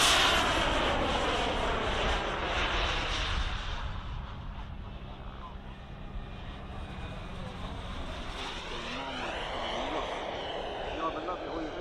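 A model aircraft flies low at the Popham model airshow, its engine roaring loud and close, then fading and swelling again as it passes, while a commentator talks over it.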